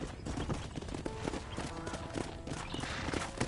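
Horse hooves clip-clop in the Red Dead Redemption video game, a steady busy trot of hoofbeats with game ambience and faint voices underneath.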